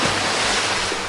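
Ocean surf breaking off the cold Maine coast, a continuous broadband wash of seawater with no pauses, close and fairly loud throughout.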